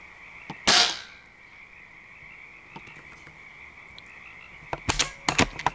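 An air rifle shot, a Benjamin Woods Walker, fired at rats on a dairy, giving a sharp crack then a few small sharp pops later over a steady high insect or frog drone outdoors.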